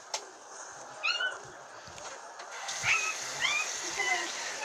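A few short, high meows come and go over a quiet outdoor background, moderately close, with faint scattered noises between them.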